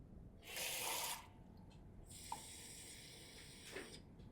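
Water from a kitchen tap runs in two short bursts into a measuring cup, a quiet, close hiss broken by small clinks and a drip-like tap.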